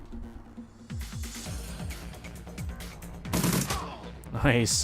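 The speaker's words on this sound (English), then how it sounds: "Sniped his ass out." Gunfire in the Shadowrun Returns game: a run of quick repeated shots, then a louder sharp blast near the end, with someone speaking briefly over it.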